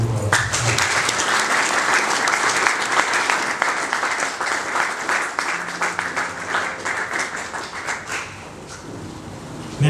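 Loud audience applause at the launch ceremony for online bill payment, dense and sustained clapping from a crowd for nearly ten seconds, tapering slightly toward the end.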